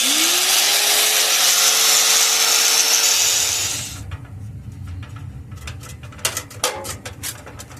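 A cut-off wheel grinds through the rear bumper bolts on a 2002 GMC Sierra. The harsh metallic whine is loud and close, then winds down after about four seconds into a rumble and a few clanks.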